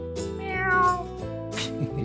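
A cat meows in a drawn-out, wavering call, loud and close, with a second shorter meow near the end over a steady background hum.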